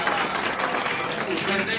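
An audience at a talk on Indian cultural heritage claps together, a steady broadband patter of applause running through the whole moment, with murmured voices mixed underneath.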